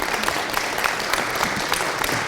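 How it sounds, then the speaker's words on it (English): An audience at a lunchtime talk applauds the speaker, Dr. Goosby, with a steady round of many hands clapping at moderate loudness in an indoor room. "Let's give a big round of applause to Dr."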